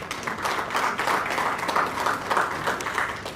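Audience at an annual memorial lecture applauding a former president, a sustained, moderately loud patter of many hands clapping that keeps an even level across the whole stretch.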